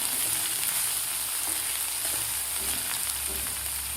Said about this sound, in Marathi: आता याला व्यवस्थित आपल्याला एकदा हलवून घ्यायचं आहे, जेणेकरून खाली लागणार नाही आपली शेंग.